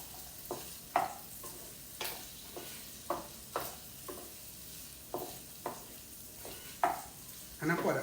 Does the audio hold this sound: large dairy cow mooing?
no